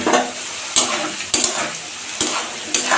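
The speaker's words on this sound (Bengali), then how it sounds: "আলু কষা হয়ে গেছে," Potatoes stir-fried in a pan for a Bengali-style lettuce sabji give a steady close sizzle, broken by four sharp scraping strokes of the spatula, about one every 0.7 seconds.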